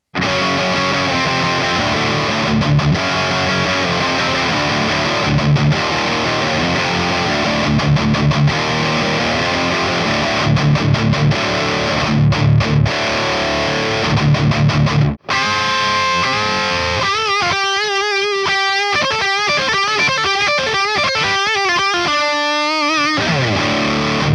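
High-gain distorted electric guitar through a Synergy Fortin Killer Kali preamp module, with loud, tight chugging riffs for about fifteen seconds, then a brief break and a busier, more articulate passage of picked notes and chords, played alone without talk.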